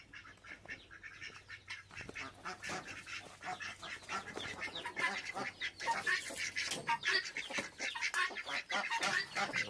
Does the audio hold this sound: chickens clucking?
yes